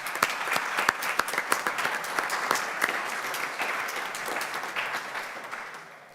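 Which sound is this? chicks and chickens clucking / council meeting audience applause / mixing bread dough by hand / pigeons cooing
council meeting audience applause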